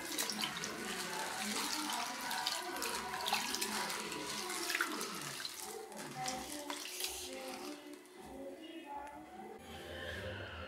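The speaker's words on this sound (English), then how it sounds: "Let's wash this for 3 to 4 times in water," Dal lentils being rinsed several times in plain water in a kitchen, with continuous sloshing, swirling and running-water sounds close by, plus occasional splashes and faint drips.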